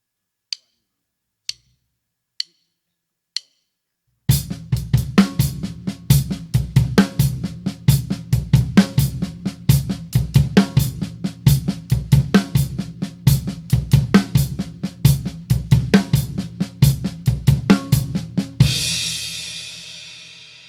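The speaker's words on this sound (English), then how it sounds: "the traditional paradiddle, and your bass drum is going to play that as well" A drum kit plays a steady paradiddle with the bass drum doubling the right-hand notes, loud and close, after four sharp count-in clicks, ending on a crash cymbal wash.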